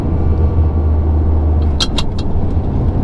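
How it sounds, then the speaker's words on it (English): Ferrari 575 with a converted manual gearbox on a test drive, heard from inside as a loud, steady low engine rumble with a few brief high clicks or squeaks partway through. "I guess we should take it out for a test drive"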